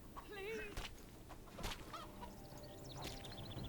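Chickens clucking and squawking in The Witcher 2: Assassins of Kings, a few quick, quiet bird calls mixed with thuds and game noise.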